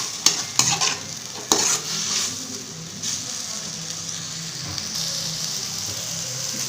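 Onion, tomato and capsicum sauté in a pan, opening with several sharp clacks of a spoon against metal, then settling into an even, moderate sizzle.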